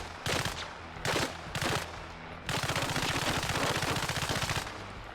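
Machine gun firing armor-piercing rounds in the Arma Reforger video game: several short bursts, then one long sustained rapid burst, loud and close with no talk.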